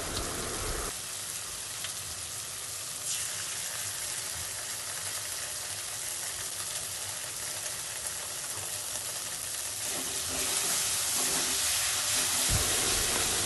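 Steady sizzle and hiss of spice masala frying with chopped tomato and tomato sauce in a pan for an egg recipe, a constant close bubbling crackle that intensifies slightly toward the end.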